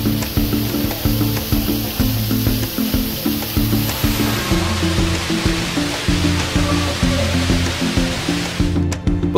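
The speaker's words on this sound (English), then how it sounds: "you would be deafened by this roaring waterfall" Roaring waterfall inside a zoo's indoor Tropic World rainforest exhibit, a loud, steady rush of falling water filling the space, with a rhythmic low hum or music pulsing underneath throughout.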